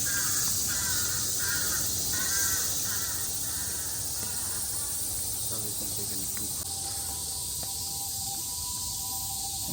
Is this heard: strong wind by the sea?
no